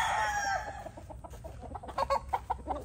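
Young roosters (stags) kept for breeding crow and cluck close by, one drawn-out crow at the start followed by a run of short, choppy clucks and calls against a low farmyard rumble.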